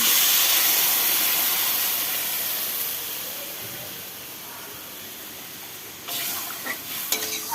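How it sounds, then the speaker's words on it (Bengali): Hot water hits a fried curry mixture in a pan, setting off a loud hissing, steaming sizzle that slowly fades, then a few clanks and stirring scrapes toward the end. "গরম জলটা দিয়ে দেবো"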